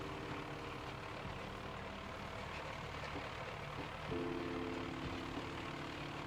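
A Ford 6600 tractor engine in the video game Farm Sim 2025 runs with a steady, dense drone, then grows slightly louder with a higher tonal whine partway through.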